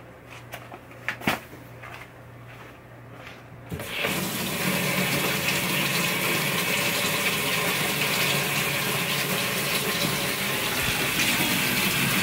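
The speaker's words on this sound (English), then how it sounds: "Then I'm going to fill it up with hot water." A few light clicks and knocks, then hot water gushes from a tap in a steady, loud stream that continues to the end.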